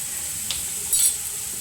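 Spinach cooking in a pan on a home kitchen stove gives a steady, soft, close sizzling hiss, with a brief louder crackle partway through and no voices.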